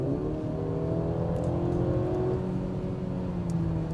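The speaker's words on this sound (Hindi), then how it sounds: "आप स्पोर्ट्स मोड में आते हो, तो आरपीएम थोड़े से हाई रहते हैं। देखो गियर नीचे शिफ्ट हो गया है" A Mercedes GLC 300 engine in sport mode holds high revs after a downshift, a steady droning hum with tones that rise slightly, heard from inside the car and continuous throughout with no talk.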